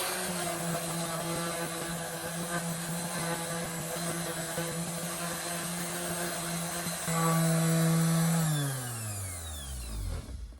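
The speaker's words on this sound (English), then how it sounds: "Now I'll just sand the surfaces to make them a bit smoother and try and sand this barcode off as well." A power sander runs steadily on wood surfaces, a loud continuous motor whine with a strained shift near the end before it winds down and stops.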